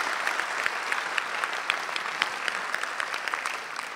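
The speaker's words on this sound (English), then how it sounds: "big round of applause" Steady applause from a conference audience at the opening of a disability-inclusion event, dense clapping throughout at moderate level, no voices over it.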